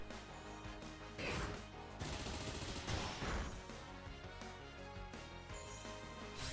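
Scizor's Bullet Punch lands in a Pokémon battle video game, a run of rapid metallic impact hits and crashing thuds over steady game background sound, several bursts spread across a few seconds, no voices.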